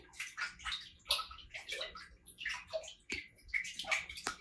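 Tapioca bread batter with milk and olive oil being stirred in a bowl, giving a continuous wet sloshing and squelching close up, with no one speaking.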